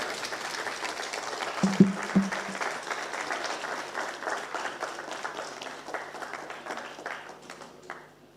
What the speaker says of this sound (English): can you join me in giving Professor Getachew Metaferia another round of applause, please?